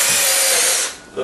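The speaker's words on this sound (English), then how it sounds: "So when you're drilling, you want to go slow and back out before you actually punch through." Power drill running steadily as it bores into wood, a loud continuous whine close by for about a second before it cuts off abruptly.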